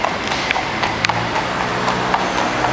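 A police horse's hooves clip-clop on a London street, a steady close rhythm of ringing hoof strikes over a low background rumble.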